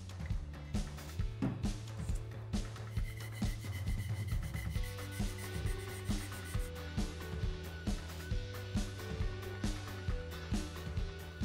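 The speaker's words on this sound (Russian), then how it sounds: "Шлифую под острым углом относительно шва склейки." An aircraft-model window made of plastic is sanded at an acute angle across a glued seam, giving a steady rhythmic rubbing scrape of repeated strokes, close and unaccompanied by speech.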